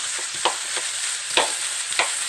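Ground beef for Arkansas-style chili fries with a steady sizzle in a pan while a utensil chops and scrapes it every half second or so, with sharper knocks of the tool against the pan standing out above the constant hiss.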